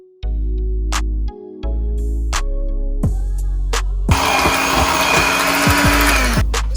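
Electric mixer whirring as all-purpose flour is beaten into sweet potato pie filling, starting and stopping in short bursts, then a louder, rougher sustained whir near the end.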